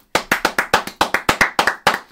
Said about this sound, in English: round of applause to Shohei Ohtani for doing what he's doing so far